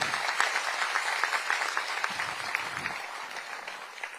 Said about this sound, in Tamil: அவர்களுக்கு நம்ம அனைவரும் சார்பாக பாராட்டுகளை கைத்தட்டுகளை தெரிவிப்போம்.